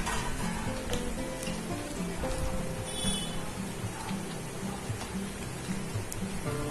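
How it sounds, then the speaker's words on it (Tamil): Maida murukku rings, seasoned with chili powder, fry in hot oil over a low flame, making a continuous crackling bubble with scattered pops, close and steady throughout. "லோ ஃப்ளேம்லேயே வச்சு நல்லா பொரிச்சு எடுப்போம்"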